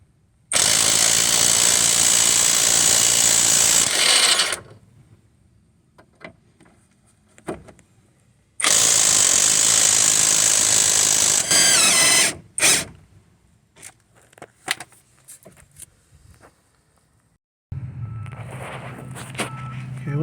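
An impact wrench on an 18mm socket breaks loose the outer tie rod on a 2011 Ford Escape, firing two loud sustained hammering bursts of several seconds each, separated by quieter clanks and tool handling, with another rattling burst at the end.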